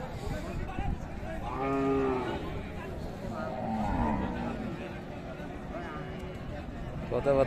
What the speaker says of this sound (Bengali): ভয় পাচ্ছে কিন্তু গাভীটা